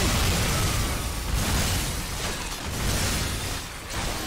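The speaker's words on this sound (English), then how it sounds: "Explosion!" An explosion in the video game Shadow Warrior 2 gives a dense, roaring blast of noise that rumbles steadily for several seconds, loud and close with no talking.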